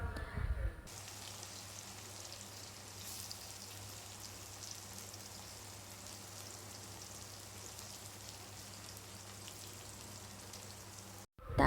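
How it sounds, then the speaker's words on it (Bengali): Chopped onions frying in a pan for a chicken curry, giving a steady, even sizzle throughout, moderately quiet, with no voices over it. "তারপর পেঁয়াজগুলোকে ভালো করে নেড়ে চেড়ে কিছুক্ষণ ভাজতে দিতে হবে, বেশ ব্রাউন ব্রাউন হওয়া পর্যন্ত।"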